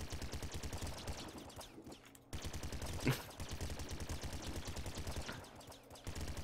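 Rapid automatic gunfire from the video game Nuclear Throne, a dense rhythmic stream of shots running almost the whole time, broken by a brief pause and a sharp single burst midway.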